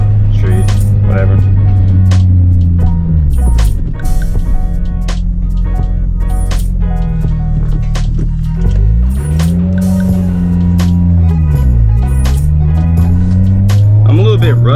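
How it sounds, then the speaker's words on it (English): Driving a 2002 Acura RSX Type S with a manual gearbox through a neighborhood street, its loud, raspy exhaust droning steadily and swooping up and down in pitch as the revs rise and fall between shifts. "driving in the RSX. You can hear that's kind of loud, kind of raspy."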